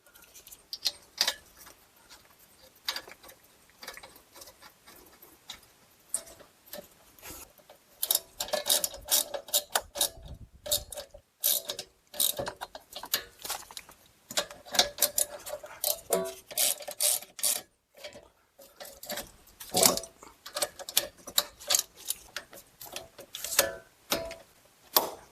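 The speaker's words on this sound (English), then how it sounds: "Then install our guide pin bolts, and we'll torque these to 26 foot-pounds." A ratchet torque wrench tightens the rear brake caliper guide pin bolts on a Chrysler Town and Country or Dodge Caravan, giving long runs of rapid, close clicking with brief pauses between strokes and no voices.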